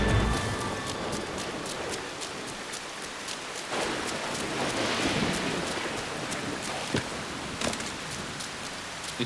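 Heavy rain pours steadily during a thunderstorm in the pirate-era game Assassin's Creed Black Flag, with rolling thunder rumbling and a few sharper cracks breaking through the constant hiss.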